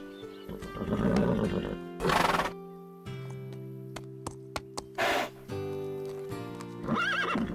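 A cartoon horse whinnies repeatedly in high, wavering neighs, with a few sharp clip-clop hoof knocks in between, loud and close in a clean animated-series soundtrack.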